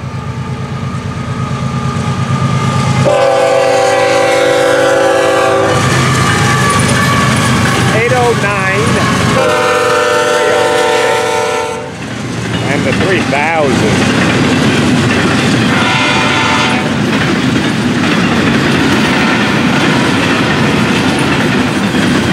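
Florida East Coast locomotive FEC 210 passes near a junction in the morning, sounding two long, loud horn blasts over a heavy rumble and the clickety-clack of wheels, close by and continuous.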